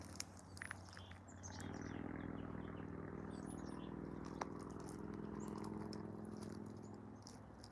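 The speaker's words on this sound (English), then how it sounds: "you can hear a lot of birds" Birds chirping in short, scattered calls over a steady rushing mountain stream in the Rocky Mountains, the water loud and continuous and the birdsong faint above it.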